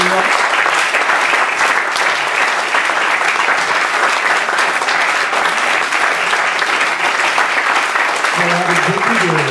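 A concert audience bursts into loud, sustained applause that fills the room evenly, with a voice emerging faintly near the end.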